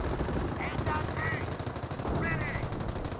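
Steady machine gun fire rattles continuously in a Company of Heroes battle, a dense mechanical chatter heard at mid distance under ongoing combat noise, with faint voice-like chirps from the game mixed in.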